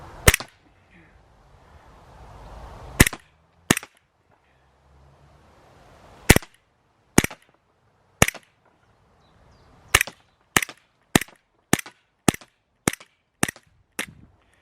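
An Umarex Glock 17 Gen 4 airsoft pistol fires at a target: sharp, loud single pops, a few spaced apart at first, then a quicker run of evenly timed shots, with quiet between them.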